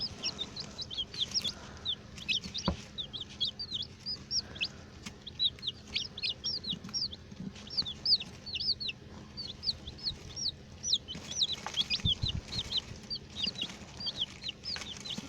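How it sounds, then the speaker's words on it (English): Five chickens being hand fed keep up a dense, continuous stream of high peeping chirps and soft clucks, close by, with occasional handling thumps and rustles underneath. "We just got some chickens and we have some food for them and I'm gonna hand feed them."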